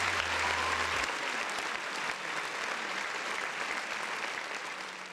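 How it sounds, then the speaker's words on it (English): Steady applause from a crowd claps continuously and evenly throughout, dense and fairly loud, fading slightly toward the end, with no one speaking over it. "Round of applause for the folks in the chat."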